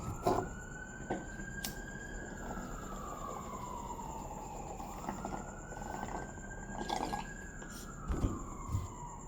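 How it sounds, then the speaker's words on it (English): An emergency vehicle siren wails outdoors at a distance, rising and falling slowly in a long sweep behind faint background noise and scattered small clicks. "Sorry about the fucking sirens."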